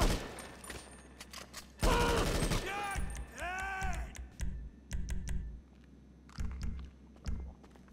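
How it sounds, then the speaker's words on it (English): Gunfire in Grand Theft Auto V: rapid bursts of loud, close shots in clusters, with a few single cracks and pauses between volleys, while a voice breaks in over the shooting. "I'm gonna shoot."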